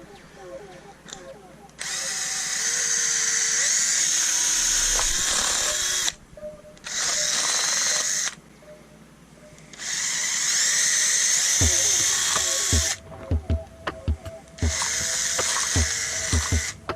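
A handheld power drill whirs through a plastic pill bottle in several loud bursts a few seconds long, with clicks and handling noises in the pauses between them.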